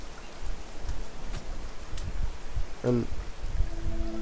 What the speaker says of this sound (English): we need to get out of the rain